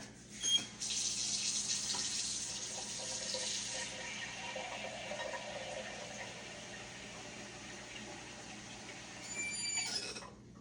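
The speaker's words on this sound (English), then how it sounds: "Let me get some water, you know, because we'll use some water too." Water runs steadily from a kitchen tap while making chicken and dumplings, a bright splashing hiss that starts with a clunk of the handle, holds at an even level for about ten seconds, then cuts off with a final knock.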